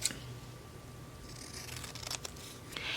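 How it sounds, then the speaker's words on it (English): Scissors snip through paper scraps for card-making clusters in a few quiet, close cuts, with light paper rustle over a low steady background hum. "I'm going to grab my scissors and I'm going to go ahead and trim that up"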